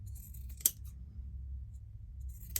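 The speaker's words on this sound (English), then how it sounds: "they are whoppers of scissors, and they're metal and they're heavy" Large, heavy metal fabric scissors are handled in a quiet room, giving two crisp metallic clicks about two seconds apart over a low background hum.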